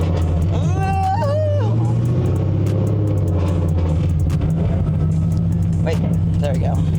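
A manual-transmission car drives with a loud, steady low engine rumble close inside the cabin, while people talk over it throughout.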